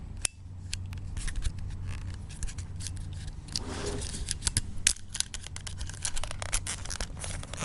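A Sony HDR-AS300 action camera's waterproof casing is unlocked and opened by hand, a run of close plastic clicks, snaps and scraping handling noises with one sharper latch click, no talking.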